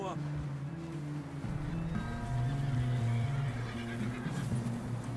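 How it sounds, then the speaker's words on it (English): A horse in the video game Red Dead Redemption 2 whinnies at the start, a falling, tremulous call over a steady low rumble of game ambience. "Oh wait, I think this is my horse."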